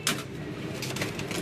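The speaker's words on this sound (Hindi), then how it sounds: "ये इनके जोड़ों वाले कबूतर है।" Pigeons kept as breeding pairs at a pigeon club coo softly and close by in a brief burst, with faint rustling around them.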